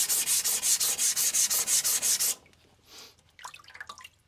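An Aogami 2 steel bunka knife is thinned on a Nano Hone 200 grit whetstone with about a dozen rhythmic, raspy grinding strokes, close and steady, followed by quieter wet scraping and handling sounds.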